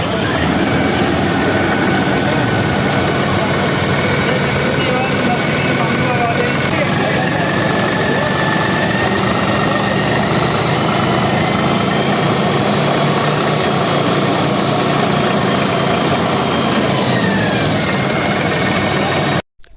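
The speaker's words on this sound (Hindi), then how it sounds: "इस ट्रैक्टर की जो CRDI इंजन है, इसकी जो सबसे बेहतरीन और साइलेंट आवाज़ है, इसको आपको एक बार सुनाते हैं" A Deutz Fahr tractor's CRDI diesel engine idles up close, a loud, steady, continuous rumble with vibration that holds unchanged for nearly twenty seconds and cuts off abruptly at the end.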